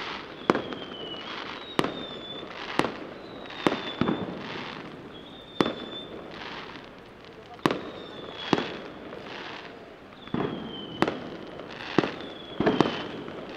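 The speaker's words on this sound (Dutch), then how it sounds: "Op grote afstand kun je gewoon het vuurwerk al horen en zien." Fireworks at the Las Fallas festival in Valencia, heard from a distance: a string of sharp bangs and crackles at irregular intervals, some with whistling rises, with faint crowd murmur in between.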